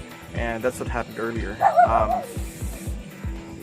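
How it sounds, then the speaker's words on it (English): A pet dog barks and yips in several short bursts close by, mixed with a person talking over it. "That's my dog, by the way."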